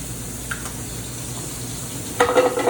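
Garlic sizzles in a pan with scallops, a low steady frying hiss with a brief clink, then a louder burst of stirring and spitting near the end.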